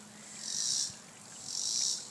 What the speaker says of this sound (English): the cicadas have started to sing. You can hear them. They're making a big loud chirp in the pear tree over here.